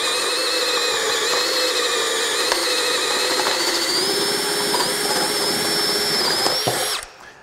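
A Flex power drill runs steadily on low speed while boring a hole, a loud continuous whirring grind that holds for about seven seconds before spinning down abruptly at the end.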